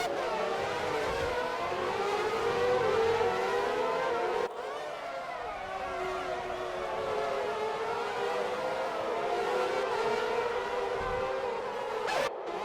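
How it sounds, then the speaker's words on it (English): A V8 Formula racing car engine in a racing video game drones steadily at high revs for the whole stretch, its pitch rising and falling in smooth sweeps with a brief dip midway. "Lovely sound of that V8 as well."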